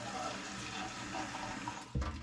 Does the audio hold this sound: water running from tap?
yes